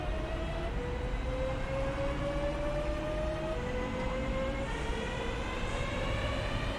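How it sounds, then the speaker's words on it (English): A sustained, steady train horn in a train driving video game blares loudly over a constant rumbling drone, its tone stepping slightly higher partway through. "And with a blow of the horn, clicking the spacebar and the N for a higher horn."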